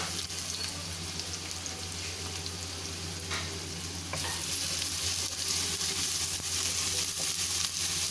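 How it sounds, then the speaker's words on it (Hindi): Chopped onion with ginger-garlic paste sizzling and being stirred in a hot pan, a steady close crackle of frying that grows slightly louder midway, no voices. "इसको थोड़ा सा हम भूनेंगे।"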